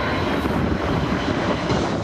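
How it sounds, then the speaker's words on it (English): An Antonov An-22 turboprop transport roars overhead while approaching to land over the Perth hills, a loud, steady, dense engine drone filling the whole stretch. "The monster plane appeared over the Perth hills"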